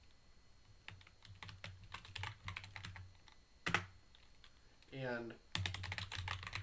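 A computer keyboard being typed on while entering a root password during an Arch Linux install, with irregular clusters of close key clicks and a brief spoken word over the tapping.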